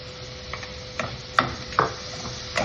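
Chopped fresh tomato cooking in a pan for tomato rice, a soft low sizzle with a few light stirring clicks and scrapes scattered through it.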